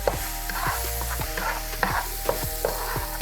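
Flour and fat for a chicken fricassee roux are stirred in a hot pan, a steady sizzle broken by regular scraping strokes about every half second, close and clear with no voices.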